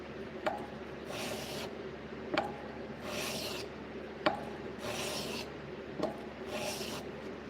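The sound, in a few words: sharpening the flat of a knife blade on a 400 grit stone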